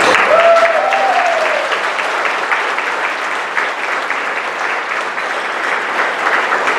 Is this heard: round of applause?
yes